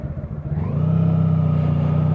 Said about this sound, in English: So the bike starts nicely.